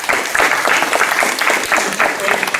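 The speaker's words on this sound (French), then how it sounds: "Et je voudrais qu'éventuellement vous puissiez l'applaudir" Steady applause from an audience welcoming a guest at a gathering, dense even clapping throughout, loud and close, with no talk over it.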